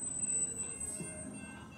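A CSX train backs through at night on Combee Road in Lakeland, Florida. A steady rumble runs under thin, high squealing from the wheels throughout, with no talking.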